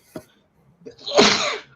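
A single sharp sneeze bursts out after a brief catch of breath, loud and close.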